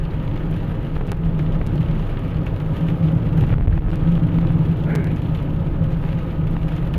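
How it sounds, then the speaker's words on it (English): Steady, loud rain drumming against a car window with a low rumbling hum underneath, continuous and close, no voices. "the rain is hitting the window and it's extra loud"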